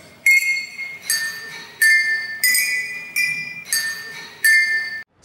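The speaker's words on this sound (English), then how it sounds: "For the music video, we had to have our glasses hit these notes from the song." Tuned drinking glasses struck to sound musical notes, about six bright ringing clinks in a steady rhythm, each with a sharp attack and a sustained pure tone, close and clear with no talk.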